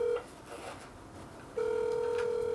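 A telephone on a call: a steady electronic tone sounds briefly, breaks off, then resumes as a continuous loud ringback tone, close and clear over faint room noise.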